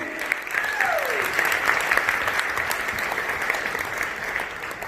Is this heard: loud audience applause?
yes